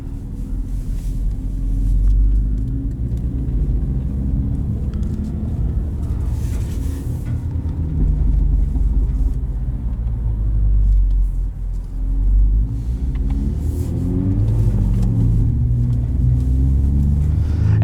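A 2016 Mini Cooper JCW with a John Cooper Works Pro muffler bypass exhaust drones on the road, giving a loud, continuous, close engine rumble that swells and eases with throttle, with no talking.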